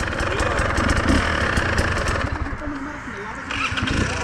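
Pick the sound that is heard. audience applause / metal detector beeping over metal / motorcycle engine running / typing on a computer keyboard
motorcycle engine running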